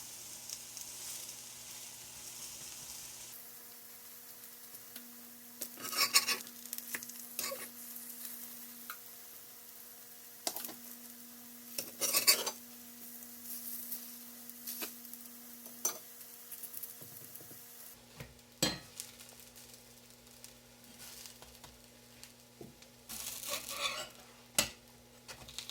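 Pumpkin pancakes fry in a pan with a low steady sizzle and a faint hum behind it, broken by several sharp spatula scrapes and clinks as they are flipped. No one speaks.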